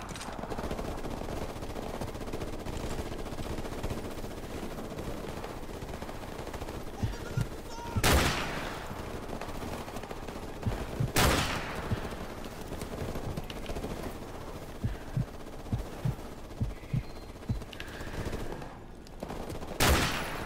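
Gunfire in Call of Duty: Modern Warfare Remastered, with bursts and single shots crackling over a steady rumbling battle bed, two sharp loud blasts standing out, and a rapid string of shots near the end.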